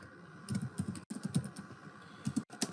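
Quick bursts of clicking keystrokes come from a computer keyboard as code is typed, close and fairly quiet. Two brief pauses break the typing.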